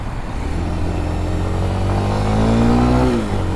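A 2023 Kawasaki KLX street-legal supermoto motorcycle revs and pulls away, its steady engine drone rising in pitch through a long acceleration before dropping off near the end.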